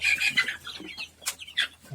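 Chickens and young chicks in a coop, a close mix of soft clucks and thin high peeps in quick irregular bursts.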